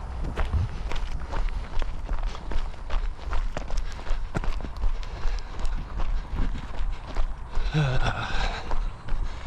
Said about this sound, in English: I'm gonna jog for a minute.